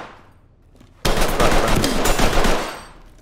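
Gunfire in the Ready or Not tactical shooter during a co-op arrest mission. After a quiet second, a loud burst of rapid automatic shots rings out for about a second and a half, then fades away.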